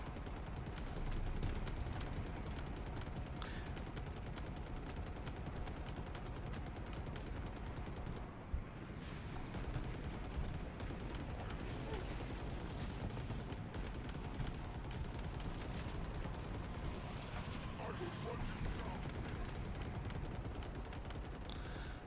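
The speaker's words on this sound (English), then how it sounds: "I am getting shot at by some other dude" Dense, continuous gunfire from enemies shooting at the player in Halo Infinite, a steady sustained barrage of shots over a busy battle soundscape with no clear gaps.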